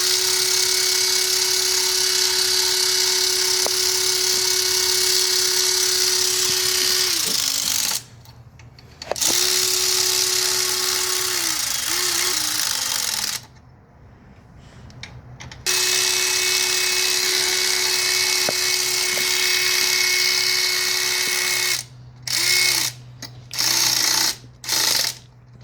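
Power tool running bolts down or back out during timing installation on a 2004 Toyota Sienna engine, a loud close whine in several long runs broken by pauses and short bursts at the end.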